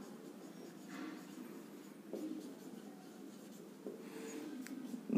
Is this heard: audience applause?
no